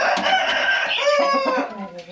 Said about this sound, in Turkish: Şimdi bir de horozlara bakalım arkadaşlar.